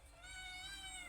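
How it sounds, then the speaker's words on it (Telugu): A house cat lets out a single drawn-out meow, close and fairly clear, in a kitchen while mutton is being washed for Telangana-style curry. "బాండ్లో మా పిల్లి అయితే అరుస్తుంది."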